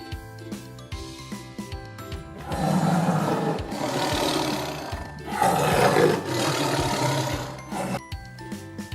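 A tiger roars twice, each bellow loud and close and lasting a couple of seconds, over steady background music.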